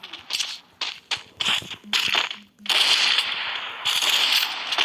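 Rapid bursts of gunfire in a shooter video game: clusters of sharp shots at first, then a sustained loud stretch of continuous fire filling the second half, with no talking.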